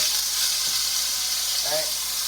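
About a tablespoon of butter sizzling in a frying pan over medium heat, a steady close hiss and crackle that runs throughout with faint stirring or clinking.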